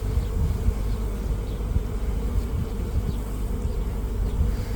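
Honeybees buzzing thickly on a hive frame during an open-hive inspection, a steady dense drone holding close and constant throughout with no talk over it.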